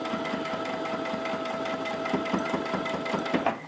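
A sewing machine stitching fabric while running on its own, a steady rapid mechanical chatter with a constant motor whine that stops abruptly at the end.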